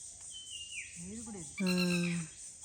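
At a riverside fishing spot in rainy weather, a bird gives a faint, thin falling whistle followed by a louder, drawn-out nasal call. A human voice also imitates the call.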